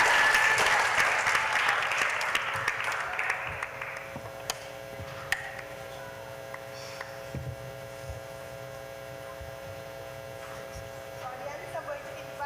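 Applause from the audience at a primary school spelling bee swells loudly at first, then fades away after a few seconds, leaving a steady electrical hum and a few scattered sounds.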